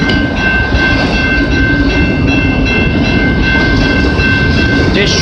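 A freight train of liquid gondola cars rolls steadily past on the Dundas and Galt Subdivision in London, Ontario, a loud, continuous rumble and clatter of wheels with a sustained tonal whine, close by with no voices.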